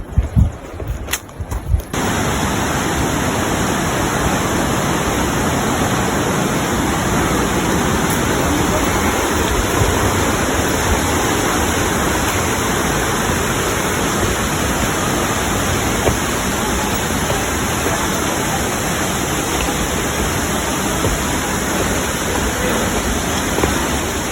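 Palali Falls roars as a dense, constant wash of falling water, loud and close, filling the scene after a short burst of handling noise at the start.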